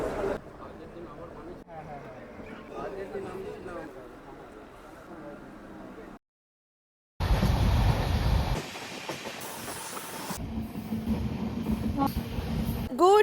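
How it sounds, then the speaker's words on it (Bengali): The Kanchankanya Express pulls out of platform 12 at Sealdah station, its carriages rumbling and clacking loudly with rising rail noise, while people talk over it and a brief silent gap breaks the sound midway. "তো ছেড়ে দিল আমাদের কাঞ্চনকন্যা এক্সপ্রেস 4 মিনিট লেট করে।"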